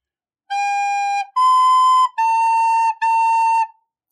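Four clear, sustained recorder notes from Au Clair de la Lune, the second slightly higher and the last two repeated at the same pitch, played alone with short gaps and a pure, whistle-like tone.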